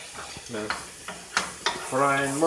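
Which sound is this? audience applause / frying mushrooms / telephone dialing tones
frying mushrooms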